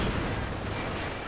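Gunfire in the World War II strategy video game Company of Heroes 2: a dense, loud, continuous burst of noisy shots and rumble filling the whole brief moment, with no voices.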